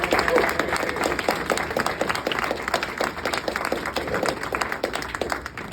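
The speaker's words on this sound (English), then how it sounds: "let's give them another round of applause." Applause from a church congregation for the staff, a steady crowd of clapping hands filling the room at moderate level throughout, with faint murmuring voices underneath.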